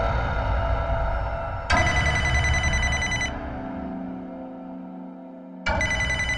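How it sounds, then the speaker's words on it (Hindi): A phone rings loudly in two long bursts of bright, tonal ringtone, with a softer pause between them, and no talking. "आपका फोन आ रहा है।"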